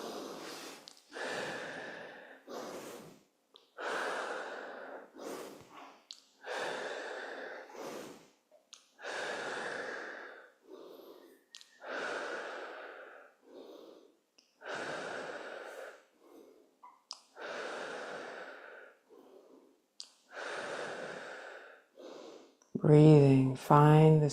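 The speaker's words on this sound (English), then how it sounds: "We try to catch the tail end of the exhale with an inhale." Continuous guided breathing during a morning movement and reset session, with long slow inhales and exhales repeating steadily in an even rhythm, close and breathy, followed by a voice at the very end.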